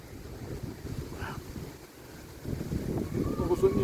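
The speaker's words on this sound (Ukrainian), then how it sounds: "Зараз вітер пройде" Low rumbling wind buffets the microphone, easing briefly in the middle and then swelling louder again toward the end.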